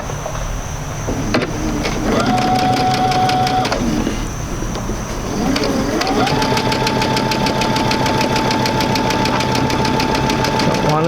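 Sewing machine running a quarter-inch seam on quilt pieces, a rapid steady mechanical stitching rhythm in two bursts with a brief pause between, close and fairly loud.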